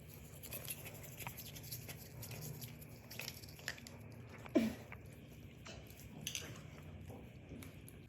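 A husky or golden retriever having its teeth brushed with a toothbrush, giving soft, quiet, repeated bristle scrubbing and wet chewing sounds, faint and close, with one brief louder squeak midway.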